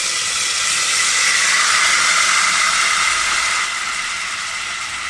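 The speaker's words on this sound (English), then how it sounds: "Now, at this point, I can add Pino's lovely tomatoes." Tomatoes for pasta al tonno hit a hot pan and sizzle loudly, a bright steady hiss that holds strong for a few seconds and then eases slightly as it continues.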